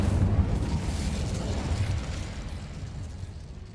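Fiery blast from the Incendio spell cast with a wand in the video game Hogwarts Legacy, a loud rumbling burst that swells at once and slowly fades over a few seconds with no voices.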